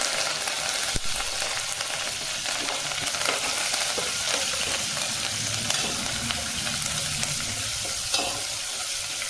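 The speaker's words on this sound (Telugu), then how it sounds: "చూడండి తాలింపు అది వేగింది." Tempering of dried red chillies, curry leaves and seeds frying in hot oil for a tamarind-leaf dal, a dense, continuous close sizzle with occasional pops and stirring clinks, no talk.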